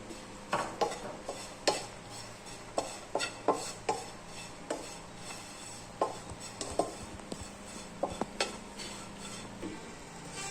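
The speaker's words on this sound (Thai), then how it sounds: "กระทะร้อนก็ เดี๋ยวเราคั่วไปก่อนครับ" Metal utensils scrape and clank irregularly against a hot wok as something is dry-roasted and stirred, with a soft background hiss.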